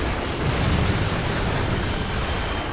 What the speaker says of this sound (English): Wait for the second explosions.